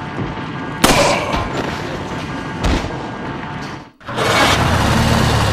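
Gunfire in the video game Resident Evil 4: a loud sharp shot near the start, another burst midway, then a brief dropout before dense, noisy action sounds resume, with no talking.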